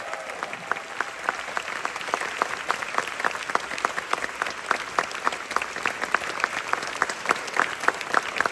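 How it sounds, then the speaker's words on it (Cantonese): A packed theatre audience claps at the curtain call of a musical's final performance, a dense and even roar of applause that stays loud and steady throughout, without voices. "俾啲掌聲 Helena 同埋佢嘅團隊"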